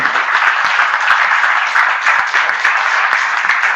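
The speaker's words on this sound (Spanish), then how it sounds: "Un aplauso." An audience at a strategy seminar breaks into loud, close applause after a prize number is drawn, a steady dense patter of many hands clapping throughout.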